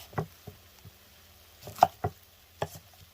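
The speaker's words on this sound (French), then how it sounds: "Je coupe juste la queue comme ça, hop, on le compote. Hop. Comme ça, je fais des petites lamelles." Knife slicing trimmed shallot into thin strips on a board, a series of crisp, close cuts in an uneven rhythm with short pauses between them.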